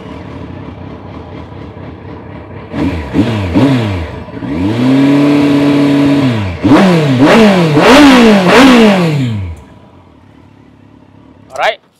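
A 2016 Kawasaki GTR 1400 motorcycle idles, then is revved repeatedly in rising and falling surges close by, the engine note climbing and dropping several times before settling and cutting off, ending with a brief clatter.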